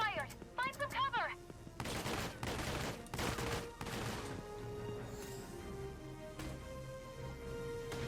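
Gunfire in the video game Valkyria Chronicles 4 cracks out as a cluster of sharp, loud shots and crashing impacts in the first few seconds. It fades into a lingering rumble and scattered faint echoes, with short voice-like sounds near the start.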